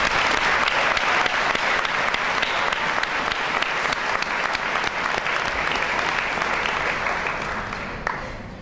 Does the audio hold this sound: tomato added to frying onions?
no